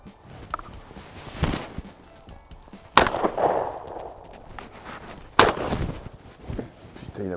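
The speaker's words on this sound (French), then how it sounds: "on tire des cartouches Terzeo en 7 et 8 et en 3 et 4" Shotgun shots fired while duck hunting in the Baie de Somme with steel Terzeo cartridges, sizes 7–8 and 3–4: three loud, sharp blasts spaced a few seconds apart, each with a short outdoor echo over low background noise.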